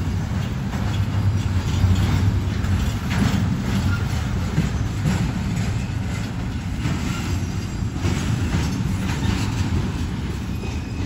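A BNSF freight train rolls past close by, a loud continuous rumble of railcars with wheel squeal and steady clatter throughout.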